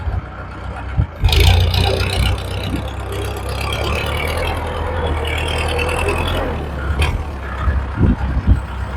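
A walk-behind tractor engine runs in a rice field, a steady loud rumbling drone with a few sharp knocks and bumps along the way.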